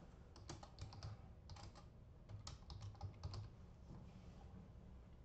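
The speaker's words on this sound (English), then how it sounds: "this is where I type this again" Fingers tap quickly on a computer keyboard while entering settings in CAM software, in close, light bursts of clicking keys.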